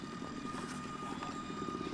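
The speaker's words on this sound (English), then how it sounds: "a large remote-controlled aeroplane will carry Herky aloft and then drop him" A large remote-controlled aeroplane flies overhead, its engine and propeller producing a steady, continuous drone at moderate distance with no talking.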